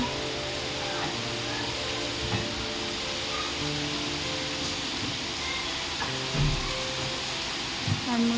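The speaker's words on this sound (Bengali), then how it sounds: "অনেক বৃষ্টি হচ্ছে" Heavy rain pours steadily over an outdoor work site, a dense, even hiss with a few louder knocks and splashes close by.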